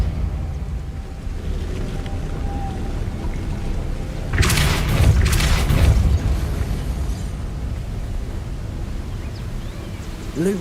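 A Depulso force spell fired in Hogwarts Legacy, a loud whooshing blast that surges for about two seconds over a steady game ambience.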